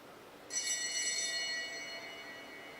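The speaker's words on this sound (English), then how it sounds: "The bell rings." A bright metallic lap bell rings once at a track cycling race in a velodrome, struck sharply and then ringing on with a sustained, slowly fading tone over quiet arena ambience.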